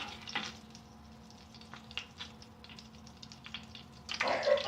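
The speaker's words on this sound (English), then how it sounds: "So the butter is melted now, so just keep heating until you see this butter turning into light brown in color." Butter sizzling and browning in a pan on the stove, a soft steady crackle with scattered pops and a brief louder burst of frying near the end.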